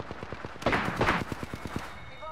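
Gunfire in the video game Apex Legends: a fast rhythmic burst of automatic shots, fairly close, with a couple of heavier blasts in the middle and a voice speaking over part of it.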